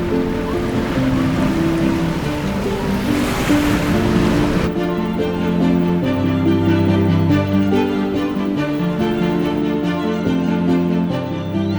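Ocean surf on the Margaret River coast of Western Australia, a steady loud wash of breaking waves with wind rumble, continuous throughout with no talk.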